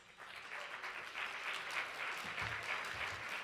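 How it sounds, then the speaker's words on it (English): Warm round of applause at a Hispanic business luncheon, greeting the director of the U.S. Census Bureau; a soft, distant patter of many hands clapping steadily for a few seconds. "Let's offer a warm round of applause for the 26th Director of the U.S. Census Bureau, Robert L. Santos."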